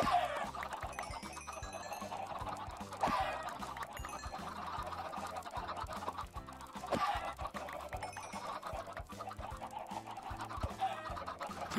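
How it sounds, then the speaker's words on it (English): Chickens cluck continuously in a Minecraft game, their short blocky calls repeating over steady game sound, with no voices. "there's still like a billion chickens left"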